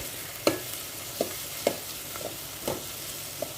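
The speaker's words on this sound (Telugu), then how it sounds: "ఇప్పుడు ఒక స్పూన్ అల్లం వెల్లుల్లి పేస్ట్ వేస్తున్నాను" Ginger garlic paste and onions frying in a pan for a fenugreek leaf chicken curry, a steady soft sizzle broken by about six sharp scraping stirs of a spoon, close and fairly quiet, with no one speaking.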